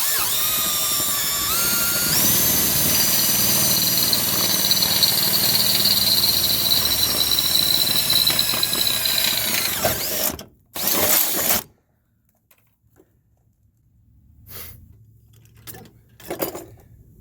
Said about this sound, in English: Just pick a spot and drill.